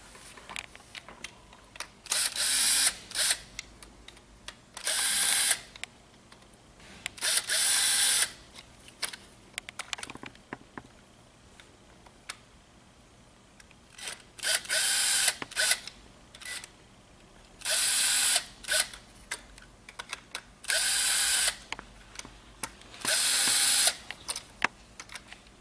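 A flat screwdriver works open the wire ports on a Leviton plug, giving repeated short bursts of close, crisp plastic clicking and scraping separated by quiet pauses.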